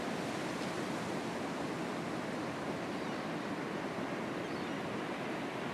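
Waves break on a beach along Australia's eastern seaboard in Murrumarang National Park, making a continuous broad wash of surf that stays even and fairly soft throughout, with no voices.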